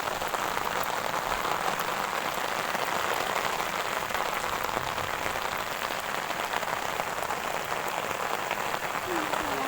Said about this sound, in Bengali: কত বৃষ্টি হচ্ছে আজকে সারাদিন ধরে